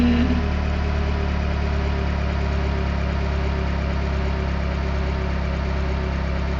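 Simulated car engine in an Electude training simulator idling with a steady low hum and constant drone, no clear revving, heard alone without voices.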